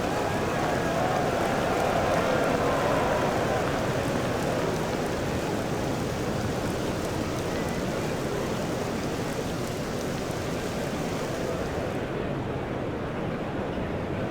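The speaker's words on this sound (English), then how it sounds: "The rain beginning to pour down." Heavy, steady rain pouring down on a cricket ground in a video game, a dense hiss, continuous and loud throughout with no voices.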